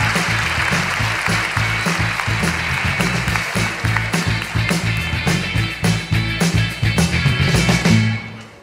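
Applause from the audience at a live comedy show, dense and steady clapping with low thumps that sounds like stamping, running unbroken and close before fading at the very end.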